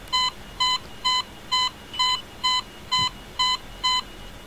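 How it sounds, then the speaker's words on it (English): The Delta Glider 4 warning in the Orbiter space simulator game: nine short, evenly spaced electronic beeps at a brisk steady pace, moderately loud and alone with no talking. "Delta Glider 4 warning"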